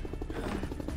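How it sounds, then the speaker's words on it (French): Helicopter passing in the stealth action game Splinter Cell Conviction, a steady rhythmic rotor chop with low rumble, fairly continuous and moderately loud throughout the second. "On entend l'hélicoptère comme tout à l'heure. Qui passe."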